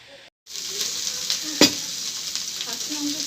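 A curry of small lata fish from paddy fields simmers in a pan, with a steady close sizzle and bubble after a brief silence and a single metallic clink partway through.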